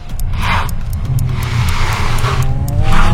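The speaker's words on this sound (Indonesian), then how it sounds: "Mesinnya hidup, dorong bareng motor listrik." A Toyota Zenix HEV hybrid car's engine starts and revs hard and steadily alongside the electric motor, loud and close, with a continuous roar that rises toward the end.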